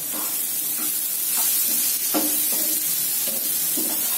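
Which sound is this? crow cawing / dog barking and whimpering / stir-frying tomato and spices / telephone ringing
stir-frying tomato and spices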